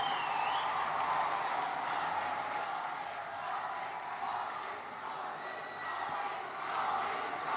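Large audience at a rally in Sambalpur, Odisha, clapping and cheering to welcome the Prime Minister, a steady dense roar of applause and crowd noise throughout, with faint voices mixed in.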